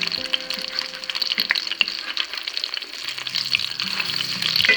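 Chicken ranch patties fry in a pan with a steady, close sizzle and crackle that continues throughout, with a low hum beneath it.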